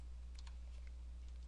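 Quick, light keystrokes on a computer keyboard while working in CAD software, a short burst of several clicks over a steady low background hum.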